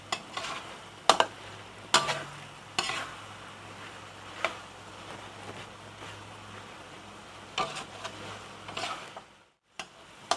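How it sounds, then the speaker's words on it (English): Pork rendang simmers in a pan with soft sizzling and bubbling, punctuated by several sharp scrapes and clinks as it is stirred, close by with no talk. "Let it continue to simmer until it turn a little bit dry."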